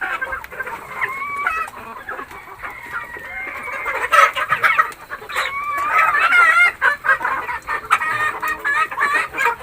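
Native chickens cluck busily in a backyard, several birds overlapping in close, loud bursts of clucks and short calls, with a rooster crowing in the mix and no talking.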